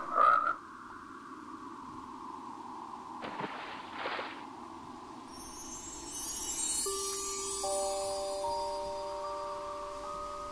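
Frog croaking in the video game Lilly Looking Through, a loud near croak that opens the scene and then fades into a steady tonal hum, with rising sparkly chimes and soft sustained notes later on.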